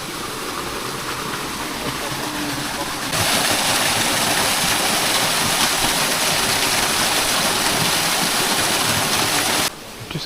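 Waterfall near Fukuoka, Japan, a steady broadband rush of falling water that grows louder partway through and drops off abruptly near the end.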